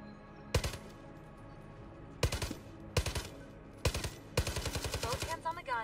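Gunfire from the primary weapon in the VR game Starship Troopers: Continuum comes as a single shot and then several loud rapid bursts, each a stuttering string of close, punchy reports.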